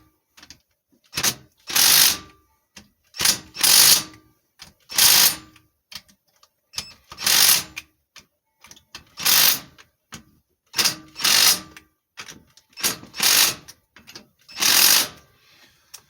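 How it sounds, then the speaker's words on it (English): A ratchet snugs down engine bolts on a Tecumseh HH100 engine, giving close, crisp bursts of clicking in an irregular rhythm, with brief pauses between strokes. "make sure they're good and snug with the ratchet"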